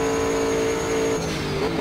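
Sim racing game race car engine holding a loud, steady high rev with a bright whine, then dropping slightly in pitch near the end as the car comes up to the start line.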